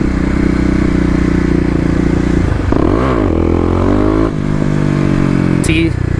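A Kawasaki KLX250 dirt bike fitted with a 13-tooth sprocket revs hard for a wheelie, its engine loud and close, the pitch falling and surging again as the throttle is blipped, with a brief scrape near the end.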